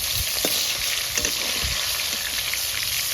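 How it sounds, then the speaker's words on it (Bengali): Rohu fish pieces fry in hot oil in a pan, just flipped to the second side, giving a steady close sizzle with scattered crackles and pops and no talk. "মাছ ভাজা এক পাশটা ভাজা হয়ে গেছে, আর এক পাশটা উল্টে দিলাম"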